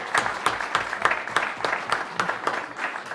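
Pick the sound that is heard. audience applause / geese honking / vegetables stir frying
audience applause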